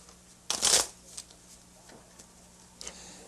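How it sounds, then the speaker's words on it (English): Blackjack playing cards are shuffled in one sharp, loud riffle close by, followed by faint handling clicks and a quieter ruffle near the end over low background hum. "the shuffling of blackjack cards"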